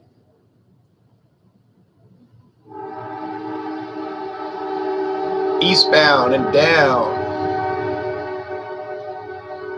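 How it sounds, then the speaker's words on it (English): A Kansas City Southern freight train heading toward New Orleans sounds its horn, a steady, loud multi-tone blast that starts abruptly and holds as the train approaches, while someone speaks over it. "That's the Kansas City Southern coming on down the line."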